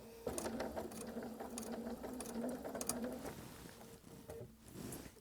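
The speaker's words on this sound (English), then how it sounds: "I'm going to stitch, and I'm going to come off of this fabric by maybe 1 or 2 stitches." A sewing machine runs stitch after stitch through cotton fabric squares for a drawstring bag, a close, steady mechanical whir with rapid rhythmic clicks that slows and pauses briefly near the end.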